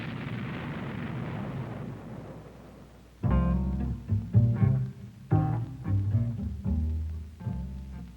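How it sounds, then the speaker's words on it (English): Laser-fused bombs burst above the surface, a series of heavy booming explosions with rolling rumbles after a low steady roar, loud and close together. "Laser ranging fuses initiate bomb burst at the optimum height above the surface"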